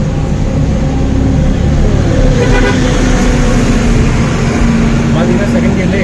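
A Tata Nano climbs a hill road and overtakes in second gear, its small engine droning loudly and steadily under wind and road noise, with a horn toot and a voice talking over it.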